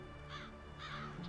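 Crows give two or three hoarse caws in quick succession, moderately near, over a low steady background hum.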